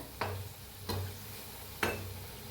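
Pakoras deep-fry in a pot of hot oil beside simmering kadhi, a faint steady bubbling hiss broken by three sharp utensil clinks against the vessel.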